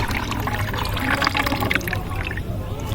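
Tomato-ripening liquid pours into a bucket in a steady, close splashing gush that thins out toward the end.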